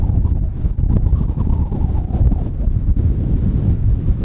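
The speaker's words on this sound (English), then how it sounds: "It's windy as fuck" Strong wind buffets the microphone at an abandoned tin mine in Cornwall, a loud, continuous low roar with gusty swells and no speech.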